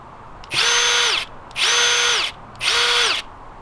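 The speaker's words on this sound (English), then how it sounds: "Here's what the 1-key sounds like." Three evenly spaced bursts of a Milwaukee One-Key cordless impact driver whirring and hammering at high pitch, each lasting under a second, close and loud.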